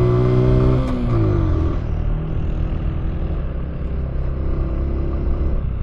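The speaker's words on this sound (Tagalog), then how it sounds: "Solid ng motor ni Philip oh." A motorcycle engine on a ride revs up through the gears with rising and falling tones, then settles into a steady, close, loud rumble while cruising, with no one speaking over it.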